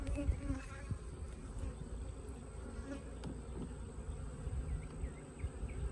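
A dense, continuous buzz of many honeybees swarming close by during installation of a nucleus colony into a hive, steady and unbroken throughout with no voices.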